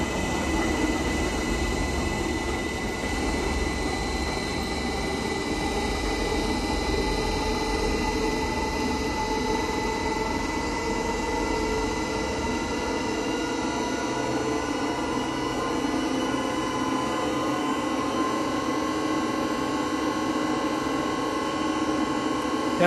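An industrial 5000-liter horizontal ribbon blender for food-grade powder runs at maximum shaft speed, giving a steady, continuous mechanical hum and whir with a constant level throughout and no talking.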